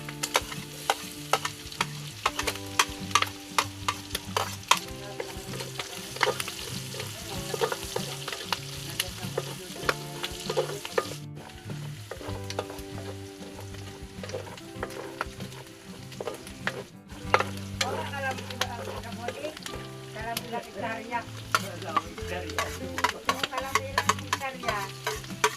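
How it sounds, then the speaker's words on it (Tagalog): Onion and garlic sauté in clear oil with a steady crackling sizzle and repeated clanks and scrapes of a utensil against the pan, close and continuous, with music playing underneath. "Gigisa na ho si Insan ng sibuyas at bawang."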